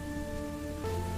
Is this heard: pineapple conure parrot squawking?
no